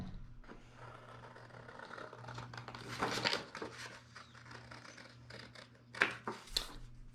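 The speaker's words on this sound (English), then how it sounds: "The next thing we are going to do is we're gonna cut along this black" Scissors snip through paper along a black line while cutting out a star wheel craft, giving soft, close crisp cuts and scrapes that bunch up midway and return as sharper snips near the end, with no talking.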